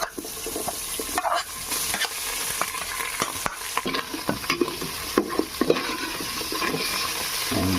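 Loud, steady sizzling of chicken sautéing with onions in a hot pan, crackling and spitting throughout with occasional clinks and stirring sounds, no voices.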